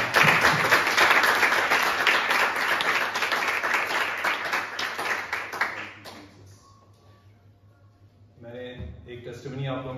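A congregation claps loudly together during a Sunday praise and worship service in church. The dense applause lasts about six seconds and then fades, with a voice speaking over it near the end.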